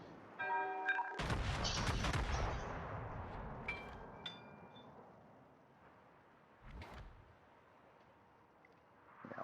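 Heavy naval gunfire from the battleship Ise in a naval combat video game: a loud broadside boom with a long rumbling tail, followed by a few fainter distant shell impacts and another boom near the end.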